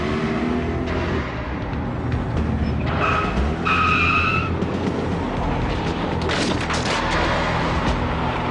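A car skids hard during a chase, with loud sustained tire squeal and engine roar throughout, a sharp bang in the middle, and no talking.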